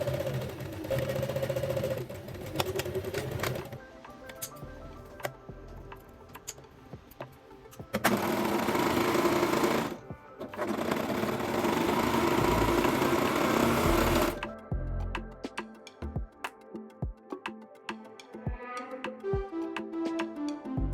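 A sewing machine stitches the inseams of pleated wide-leg shorts, running in long steady whirring stretches that stop and restart, then gives way to a series of lighter clicks and taps.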